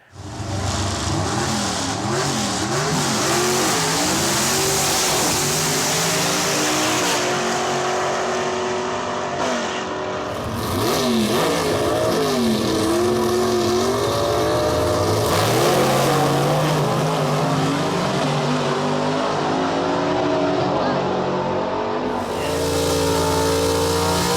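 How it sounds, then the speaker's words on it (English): A 1960s gasser drag race car blasts down the track at full power, its engine roaring loud and continuous with shifting pitch as it accelerates, no voices over it. "see that car go down the track again under full power"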